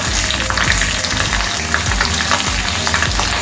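Mustard seeds, cumin and green chilies frying in hot oil for mango pulihora, a loud, steady sizzle with small pops and occasional stirring scrapes, close up and without talk.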